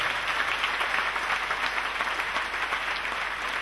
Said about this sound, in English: Oh, clap for Jesus again.